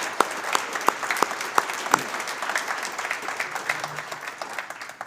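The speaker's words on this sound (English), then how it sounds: "let's give them a big round of applause for all their work" Audience at a university presidential introduction applauding the search committee, a few distinct sharp claps at first swelling into steady crowd clapping that fades toward the end.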